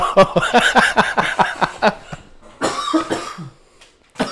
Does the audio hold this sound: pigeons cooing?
no